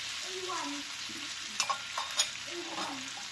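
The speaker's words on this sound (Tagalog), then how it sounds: "Kailangan po naprito natin ng maayos yung ating luncheon meat" Luncheon meat frying in a pan, with a steady close sizzle and a few clinking stirs or pan knocks midway.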